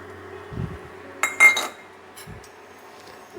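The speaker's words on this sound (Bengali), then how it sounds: "চিনিটাকে আমি এর মধ্যে দিয়ে দেব।" About 150 grams of sugar tipped into a pan to start a semolina caramel, a few close clinks and a soft pour rattle with short clatters, then quiet.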